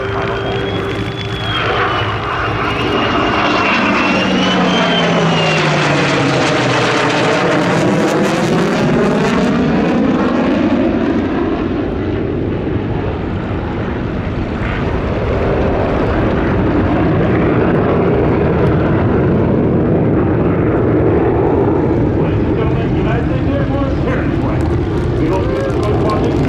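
Airshow aircraft flying in a square formation on their final pass over a Geneseo, NY crowd, a loud sustained engine roar whose pitch sweeps down and back up as the planes pass, with announcer talk throughout.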